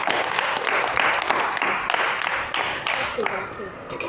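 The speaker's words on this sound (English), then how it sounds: "Clap for him," Clapping for a boy in a grade 5 classroom, a steady patter of hands from a small group of children, fairly close, with voices mixed in.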